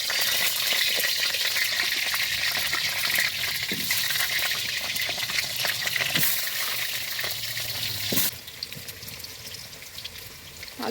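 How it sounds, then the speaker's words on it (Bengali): Potatoes frying in hot oil in a wok over a wood stove give a loud, steady sizzle with a bright hiss, broken by a few sharp crackles and pops. One sudden burst near the end briefly drops the level. No one speaks. "তেল দিয়ে আলুগুলো ভেজে নেব"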